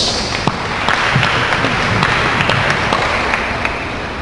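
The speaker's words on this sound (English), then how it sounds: "Let's give them a warm applause." Wedding guests applauding, a steady, loud wash of dense clapping that holds evenly for several seconds with scattered sharper claps on top.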